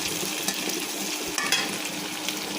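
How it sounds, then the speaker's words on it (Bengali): Haisa greens frying with shrimp in a pan give a continuous close sizzle and crackle, with a few sharper spatters and stirring scrapes and no voices. "এখন ভালোভাবে ভেজে নেব"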